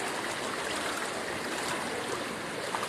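Steady rushing floodwater from Typhoon Carina flowing continuously, a broad, even wash of noise with no voices.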